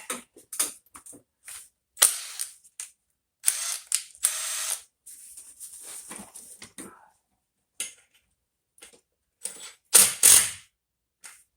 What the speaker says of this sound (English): let's see what happens when I take that bolt out